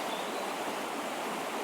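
Steady rush of water flowing in a stream on an outdoor dog walk, a continuous even hiss with no pauses or voices.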